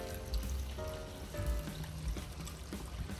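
Water is poured into a mutton karahi cooking in the pan, giving a continuous splashing, sizzling rush that stays fairly steady throughout, with faint tonal sounds in the background.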